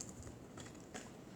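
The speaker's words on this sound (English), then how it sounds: "Let me shuffle this one more time." Tarot cards being shuffled by hand, a quick run of soft papery riffles and flicks, close and fairly quiet, with no talking.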